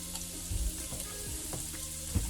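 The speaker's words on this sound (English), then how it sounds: "Fry it with the mustard oil, and now I'm going to put very thin ginger slice." Thin ginger slices frying in mustard oil, a steady hissing sizzle with a few low knocks and scrapes from a utensil against the pan.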